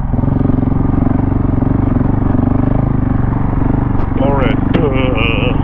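A KTM 690 Enduro R or WR250R motorcycle rides through sand, its engine a steady loud drone with wind buffeting throughout, while a rider speaks briefly over it.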